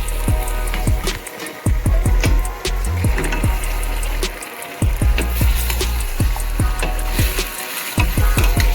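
Mutton added to a hot pan with whole red chilies for a traditional Indian curry, crackling and sizzling loudly up close with rapid sharp pops and bursts, broken by brief quieter moments as it is stirred.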